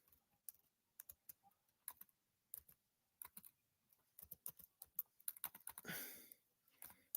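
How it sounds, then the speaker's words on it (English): Fingers clatter on a small computer keyboard in bursts of quick keystrokes with short pauses, ending in a denser flurry of typing; close and crisp, with no voice. "God, I hate this small keyboard I'm typing on here."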